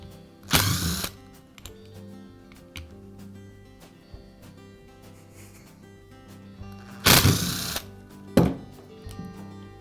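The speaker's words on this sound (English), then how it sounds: "Now I can remove the cord clamp." Cord clamp being taken off a Makita disc sander during a cord repair, giving two loud broadband clatters near the start and later, a sharp click after that, and quiet mechanical handling in between.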